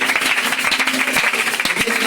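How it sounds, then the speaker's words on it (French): A church congregation claps together in acclamation of the scripture reading during a sermon, a steady, loud wash of applause filling the space. "on acclame la parole de Dieu"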